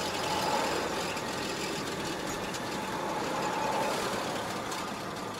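A Citroen 2CV engine drones steadily while the car drives in third gear through town, a continuous mid-loud hum with road noise inside the cabin and no break in pitch.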